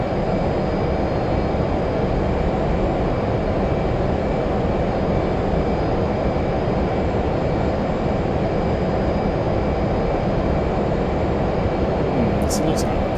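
An F/A-18 jet roars on afterburner during a carrier takeoff in the DCS World flight simulator, a constant dense engine rumble with a high whine that fills the whole stretch without letup.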